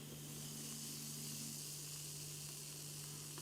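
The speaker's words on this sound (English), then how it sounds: "You hear that hissing and fizzing from the sourness in the beer." Soft, steady fizzing and hissing of carbonated bubbles from a sour beer in a glass, faint and continuous with a low hum underneath and no voices.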